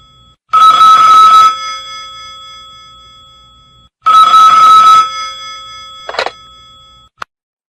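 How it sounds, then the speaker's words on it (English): A telephone bell rings loudly in two long bursts separated by a pause, followed by a short partial ring and a final faint ding, with no voices. "At that moment the telephone rang."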